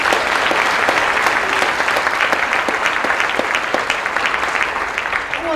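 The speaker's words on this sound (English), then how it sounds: "Give yourselves a round of applause." A conference audience applauds at a closing keynote address, steady dense clapping from a large crowd filling the room throughout, with no speech over it.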